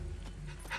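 A dog in Call of Duty Ghosts pants softly with quick breaths over a steady background of game ambience, brief and fairly quiet.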